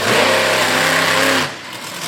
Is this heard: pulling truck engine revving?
yes